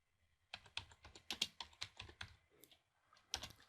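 Typing a web search on a computer keyboard: a quick run of crisp, close key clicks in two bursts separated by a short pause, with no talking.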